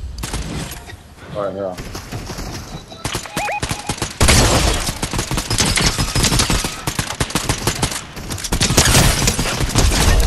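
Gunfire in Fortnite, Zero Build duos against trios: dense, loud volleys of rapid automatic shots growing heavier over time, with a voice speaking briefly over the shooting.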